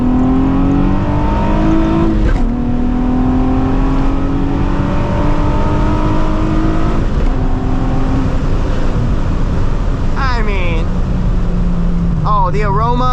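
Nissan 350Z engine pulling hard in second gear on a straight, a loud steady rising drone with climbing harmonics that breaks off briefly for a shift, then a higher revving whine near the end.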